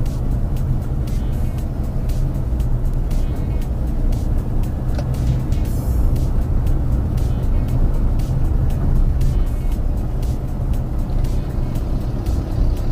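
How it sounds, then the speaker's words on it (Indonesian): A manual car pulls away on a quiet road as the clutch is eased out and light, steady throttle is applied, giving a loud, continuous low engine hum with no talk over it. "buka pelan, habisin kopling, baru sentuh gas stabil"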